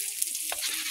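Cumin seeds hit hot oil in a pan, a short bright burst of sizzling and hissing lasting under a second.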